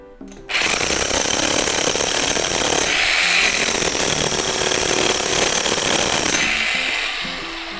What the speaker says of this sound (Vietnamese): Cái mũi khoan vô khoan nha anh em.